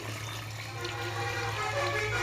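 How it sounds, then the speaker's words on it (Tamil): Water is poured into a pot of chicken biryani, a continuous close splashing rush that grows slightly louder over two seconds, with a low steady hum beneath. "அந்த தண்ணியை வந்து நான் ஊற்றிக்கிறேன்"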